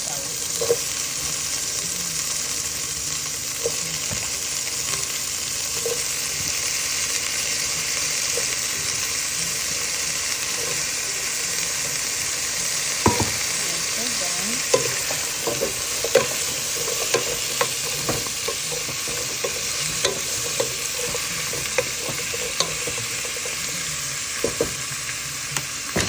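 Squash and string beans sauté in a pan with a steady broadband sizzle, broken by scattered clinks and scrapes of stirring, close and moderately loud throughout.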